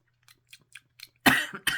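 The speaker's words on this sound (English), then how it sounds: "I have a little bit of a residual cough." After a few quiet clicks and small mouth sounds, a sharp, close cough from a lingering residual cough bursts out, followed by a second shorter cough.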